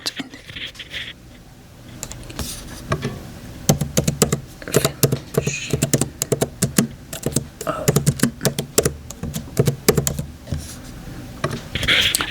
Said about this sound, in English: I'm going to use some keyboard sounds.